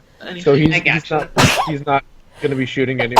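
A single sharp sneeze bursts out in the middle of a casual tabletop role-playing session for a Fallout campaign, surrounded by close conversational voices before and after.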